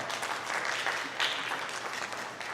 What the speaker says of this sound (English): We can give Nelson a big round of applause